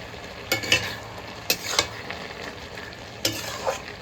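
Fried prawns are stirred into boiled potatoes in a pan, with a soft sizzle running underneath and several distinct scraping, clattering strokes of the spoon at irregular intervals, close up and without talking.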